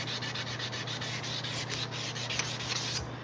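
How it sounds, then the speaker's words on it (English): Forged knife blade hand-sanded at 300 grit during a rainy-day forge session, a soft, continuous rhythmic rubbing with quick back-and-forth strokes under a low steady hum. "I am grinding or sanding at 300 grit"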